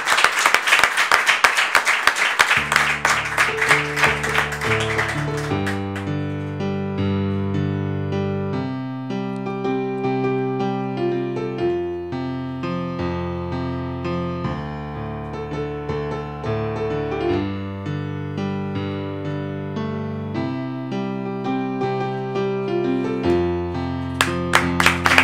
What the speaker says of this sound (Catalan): Un aplaudiment per ell i per la Neus.